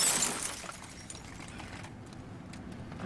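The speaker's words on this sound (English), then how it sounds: "I broke the window again." Car window glass shattering: a bright crash burst right at the start, followed by a fading tinkle of falling fragments over a quiet background.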